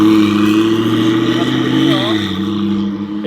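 A McLaren sports car engine with turbos on a test drive, heard from outside as a loud, close, sustained droning roar that climbs in pitch, then drops as revs fall, ending with a fading whoosh.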